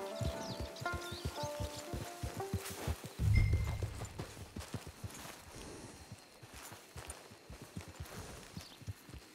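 A horse trots in Red Dead Redemption 2 online, hooves clopping in a clear, even rhythm close by, with a brief low thump partway through and faint music at the start.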